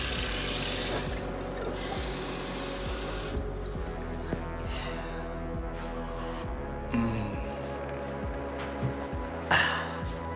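Water runs from a tap in a steady, quiet stream, with faint clinks and rubbing noises throughout and no speech.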